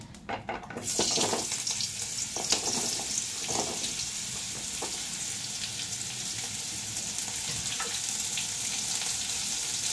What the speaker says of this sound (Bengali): কুমড়োটা ভেজে নিই, কুমড়োটা ভেজে নিয়ে তারপরে আবার কুমড়োটা তুলে নিই।